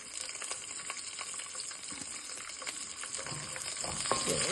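Spices and a chilli spluttering in hot oil for lemon rice give a close, steady frying hiss with small crackles and pops, growing slightly louder near the end; no talking.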